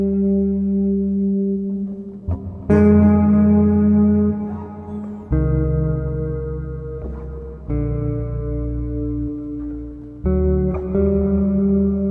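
Chords on a guitar run through an RV6 modulated reverb and a chorus pedal, lush and sustained, struck roughly every two and a half seconds and left to ring and swirl into the next with a wide, wobbling tail.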